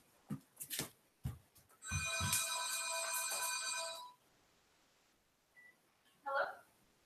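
A mobile phone ringtone plays at moderate volume for about two seconds of bright repeating electronic tones, framed by brief talk and rustling before and a short voice afterward.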